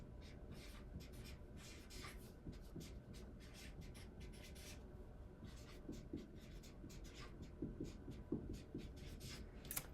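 Pen or pencil scratching steadily across paper, close and fairly quiet, with irregular strokes and a few sharper taps as words are formed, continuing alone for the whole stretch.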